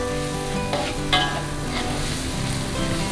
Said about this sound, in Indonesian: Lalu kita masukin serai sama daun salam yang tadi. Aduk.